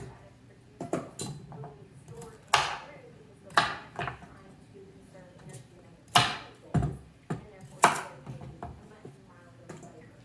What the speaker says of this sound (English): And then I chop the tops and the ends off.